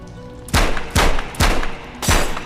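Four loud, sharp gunshots ring out in the Metro Awakening video game, evenly spaced about half a second apart, each with a brief booming tail.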